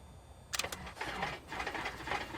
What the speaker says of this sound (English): And we can start the engine.